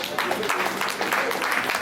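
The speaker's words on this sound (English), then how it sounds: "Please, let's give this man another round of applause." Audience applause for Frank the Tenor at an evening chapter gathering, a steady dense patter of clapping at moderate loudness filling the short span, with a voice or two mixed in.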